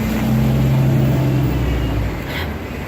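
A car turns in on a street right beside the speaker, its engine a close, loud low hum that swells and then eases away, with no talking.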